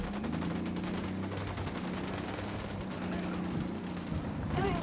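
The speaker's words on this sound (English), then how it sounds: "I'm opening fire." Sustained gunfire from a shooter video game, Ghost Recon Wildlands, with dense overlapping shots and bursts continuing steadily at close range and high loudness throughout, with no talk.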